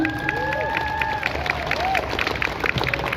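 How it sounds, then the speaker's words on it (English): Protest crowd in St Peter's Square, Manchester, clapping and cheering together, a busy mix of hand claps and raised voices with whistling tones over the noise, all heard outdoors at middle distance. "So can we all clap for Child Q?"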